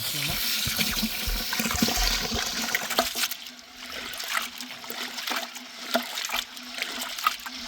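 Water splashes and runs as split moong dal lentils are washed for a wedding-style sambar in Madras, with sloshing, trickling and pouring sounds close by and a voice talking at times.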